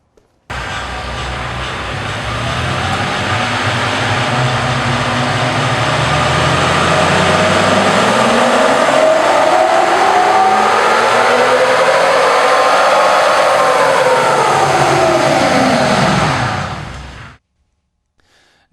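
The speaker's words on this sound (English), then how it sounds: "we're going to make some baseline runs on our Dynacom dyno" A stock, unmodified Toyota 4Runner engine runs up hard on a Dynacom chassis dyno, a loud, steady roar climbing in pitch through a long pull for about sixteen seconds before cutting off abruptly, with no talking over it.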